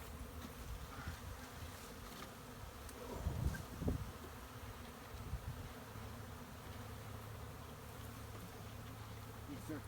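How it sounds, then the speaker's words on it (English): A swarm of bees drones steadily in a Humboldt County neighborhood, a faint, continuous buzzing with a few soft background thumps. "that's where the bees are gonna form their hive."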